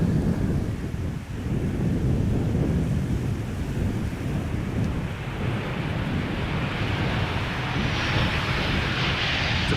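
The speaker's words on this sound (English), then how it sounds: "This is Transavia Flight 6116 arriving from Malaga, landing here on Polderbaan" A Transavia airliner arriving from Malaga lands on the Polderbaan runway at Schiphol, giving a steady, broad jet roar that holds for the whole stretch, with some wind buffeting and no voices.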